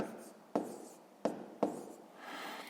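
A pen writes numbers by hand on paper during a maths exercise, three quick scratchy strokes starting sharply and trailing off, close and quiet with no voice.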